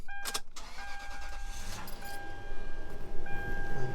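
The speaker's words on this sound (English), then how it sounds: "Okay, let's start the car." A car engine cranks with a short burst of starter noise, then catches and settles into a steady idle with a faint whine, close and loud, without talk.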